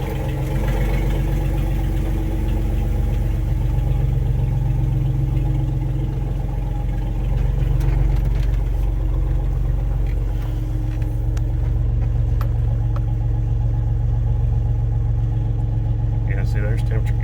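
Engine of a Mopar car idling and running steadily as it backs out, a constant low rumble close by that holds for the whole stretch, with brief voice sounds over it.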